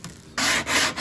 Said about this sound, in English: we are going to actually do a little bit of sanding.